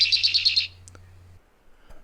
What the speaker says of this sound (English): the red-winged blackbird